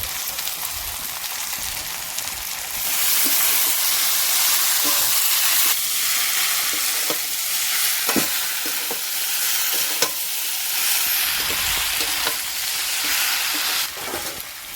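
Taro stolons (kochur loti) sizzle loudly in a hot pan while a spatula scrapes and stirs them, giving a steady frying hiss broken by repeated clatters of the utensil against the pan.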